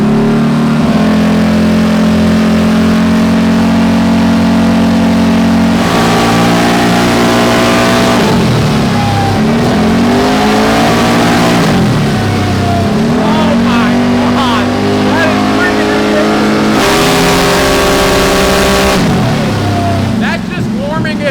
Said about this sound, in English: We gotta warm up the motor first before we send some full-blown runs.